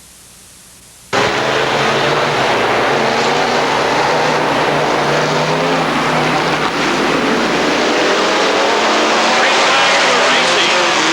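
Race cars thunder past at Rockford Speedway during a 1999 Saturday bracket race, a sudden loud roar of several engines bursting in after a quiet second and holding steady and close, with a voice talking over it.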